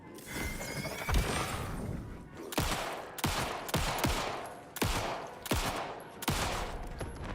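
Gunfire from the video game Alan Wake 2: a run of about nine sharp, loud shots at uneven intervals, each with a brief echoing tail over a dense ambient background.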